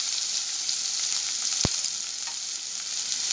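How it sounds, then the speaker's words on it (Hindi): Onion hits hot cooking oil in a pan and fries with a loud, even sizzle that holds steady throughout, broken once by a single sharp tap of a utensil. "तेल गर्म हो गया है, अब इसमें प्याज ऐड कर देते हैं"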